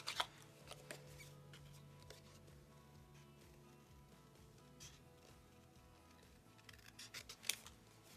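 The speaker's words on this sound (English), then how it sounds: "we better cut this guy out first" Scissors snipping a foam craft piece for a patriotic 3D star decoration, a series of quiet, close cuts with soft rustling and handling noises between them, sharper clusters of snips at the start and near the end.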